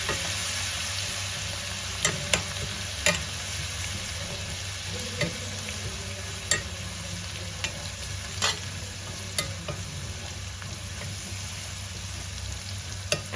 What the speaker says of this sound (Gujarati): આપણી લસણ મરચાંની પેસ્ટ સતળાઈ ગઈ છે